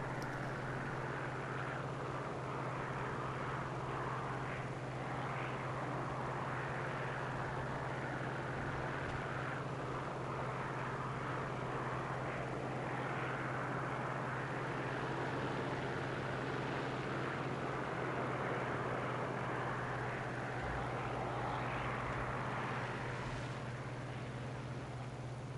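Aircraft engines droning in a flight combat game with Hudsons, a Blenheim and a P-400 in the air, a steady low hum that holds level throughout under broadband rushing noise.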